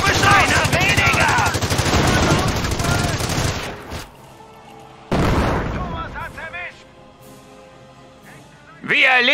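Heavy, dense gunfire and explosions from the WWII strategy game Company of Heroes roar almost continuously, drop away briefly, then erupt again with fresh bursts while radio-style voices talk over the battle.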